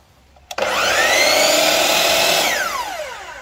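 A Bosch GCM 12 GDL Professional mitre saw starts up suddenly and whines at a high, steady pitch while cutting 10x4 timber, then winds down, loud and close.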